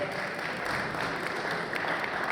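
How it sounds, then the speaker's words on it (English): An audience at a fundraiser event in New York gives steady, full applause, a dense even wash of clapping throughout. "A round of applause, please."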